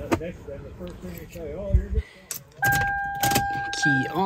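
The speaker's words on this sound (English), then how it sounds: "Key on, engine off." On a 1999 Toyota Camry 2.2L with a misfire, keys jangle and click in the ignition as it is turned to on with the engine off, followed by a steady electronic chime; someone talks over it.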